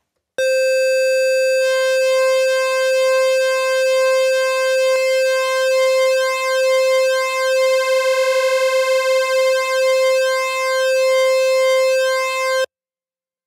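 Mono synth lead built from oscillators whose pulse widths are swept by a slow sine LFO in opposite amounts, filter wide open: one loud, sustained buzzy note with a slowly shifting, phasing timbre, alone for about twelve seconds.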